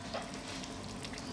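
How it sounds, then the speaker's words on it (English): Finely chopped onion frying in a pan for Jamaican curry beef, giving a soft, steady sizzle heard close up for a brief moment. "So we're now going to add in our chopped onion"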